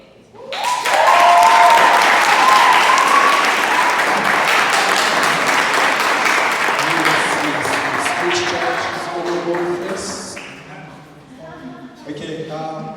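Audience applause at a robotics team practice presentation swells quickly into loud, dense clapping, holds steady for several seconds, then thins and tapers toward the end, with some voices and crowd noise mixed in.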